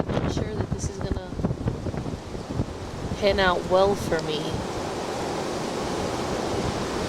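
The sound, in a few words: strong wind blowing outdoors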